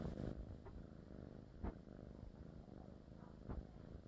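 Domestic cat purring close up, a soft, steady rhythmic rumble with faint breathy pulses, quiet and continuous with no talk over it.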